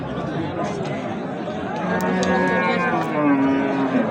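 Sahiwal bulls at a livestock market, with a low bovine moo drawn out near the middle and again toward the end over a steady din of crowd chatter and people talking.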